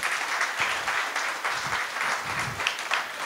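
Audience applause for Safdar Imam Qadri, a dense steady patter of many hands clapping throughout at moderate volume, with a few low thumps mixed in.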